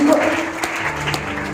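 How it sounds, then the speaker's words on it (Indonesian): A church congregation claps during a Sunday service, a short burst of applause mixed with voices and a sustained tone. "Kasih tepuk tangan untuk Tuhan."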